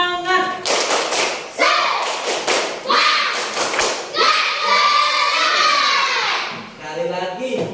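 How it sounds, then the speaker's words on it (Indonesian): A school class of children doing the rhythmic 'tepuk semangat' spirit clap, with sharp bursts of hand claps alternating with children's chanting voices, loud and close in a classroom. "Kita tepuk semangat dulu nak ya. Tepuk semangat."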